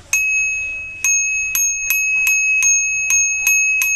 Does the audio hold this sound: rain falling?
no